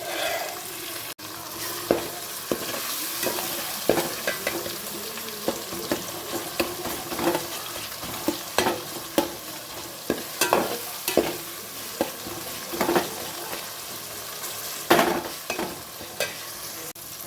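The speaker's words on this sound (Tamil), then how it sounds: "இப்போ தக்காளி நல்லா வதங்கட்டும் ஃப்ரெண்ட்ஸ்" Tomatoes sautéing in a pan for quail gravy, a steady close sizzle broken by frequent scraping stirs and clicks of a utensil against the pan, with no talking.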